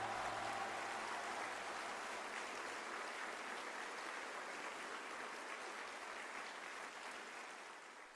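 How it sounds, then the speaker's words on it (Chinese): Applause fills a stage performance hall for a traditional Chinese opera show, a broad, steady wash of clapping from a large audience that holds throughout and fades slightly at the end. "掌声欢迎"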